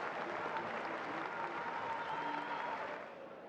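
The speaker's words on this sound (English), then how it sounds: "Huge cheer." A cricket stadium crowd roars and applauds as the Gladiators players walk out, a dense, steady wash of cheering that holds strong before easing slightly near the end.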